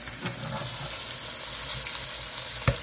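Country fried steak browns in a hot pan with a steady, even sizzle and frying crackle throughout, plus a single sharp knock or clatter near the end; no one speaks.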